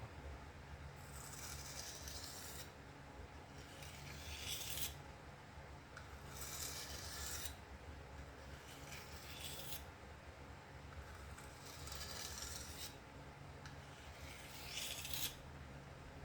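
A Spyderco Paramilitary 2 knife with an S110V steel blade is drawn back and forth across a sharpening stone, making slow, gritty scraping strokes in pairs with pauses between them, close and faint, with no talking.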